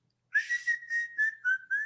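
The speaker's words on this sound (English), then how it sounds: "I can barely whistle." Someone whistles a short, breathy, wavering tune close up, a few uneven notes with audible air noise around the tone.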